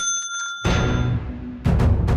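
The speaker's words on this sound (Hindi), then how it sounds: "रिया ने तो घंटी बजा दी है भाई" A bell is rung during a television reality show, a few loud, close metallic rings with long trailing resonance, one struck and then a quick cluster near the end.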